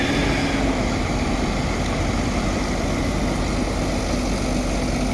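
A tractor towing vehicles through a muddy, rain-soaked Wacken Open Air festival site in 2023 runs with a loud, constant engine drone and a steady hum throughout, with no speech.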